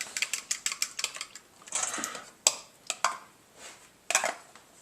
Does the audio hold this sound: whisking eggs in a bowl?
yes